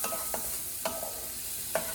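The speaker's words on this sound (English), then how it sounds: "hoping that each of my slices is lightly covered and searing in the ghee that went into this pot" Apricot slices searing in ghee in a pot, a soft low sizzle broken by three brief scraping stirs, close and quiet with no talk.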